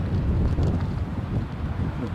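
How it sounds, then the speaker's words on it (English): Strong wind buffets an outdoor microphone at a plane-spotting spot, producing loud, continuous low rumbling and gusting roar throughout. "I'm being rattled by the breeze"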